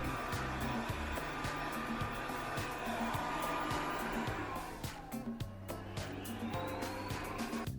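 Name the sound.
Umeda Tomo R8 robot vacuum cleaner running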